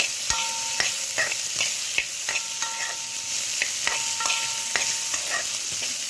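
Green chillies, onions and capsicum sizzle steadily in a pan for chutney, while a spoon clinks and scrapes against the metal in a regular stirring rhythm close by, with no talking.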